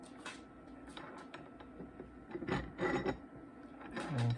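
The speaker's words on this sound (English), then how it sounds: "So I'm going to slide that into this slot." An ELEGOO Mars 2 Pro resin printer's build plate slides into its slot, giving off a soft scraping rub of metal parts. A brief clunk lands as the plate seats, and the whole sound stays close and fairly quiet.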